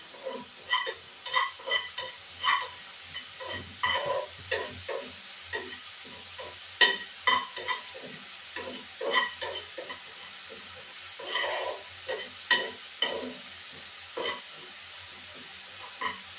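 Cumin seeds are dry-roasted and stirred in a pan, giving quiet, rhythmic scraping strokes and light rattling that repeat through the whole stretch with no talk.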